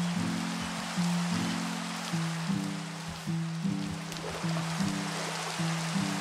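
Rain in the video game Minecraft at night, a constant broadband hiss of falling water heard alone, with a repeating low tonal pattern of in-game music running beneath it.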